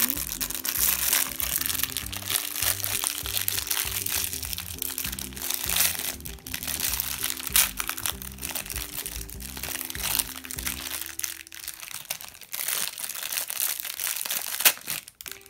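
A large plastic sachet from a LOL Surprise doll package is crinkled and torn open, giving steady crunchy rustling and crackling over a continuous musical backing, with occasional handling noises throughout.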